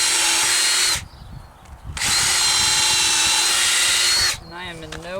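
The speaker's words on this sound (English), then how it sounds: "I'm just gonna start by drilling some holes." A power drill bores holes in wood while building a chick grow-out pen, running in two loud sustained bursts separated by a short pause, with the motor whining down after each.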